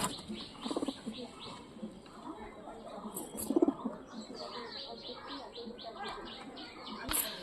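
Giribaz pigeons coo softly in a loft, their low throaty calls coming in short repeated bursts amid faint chirps and a few wing flutters, with someone talking in the background.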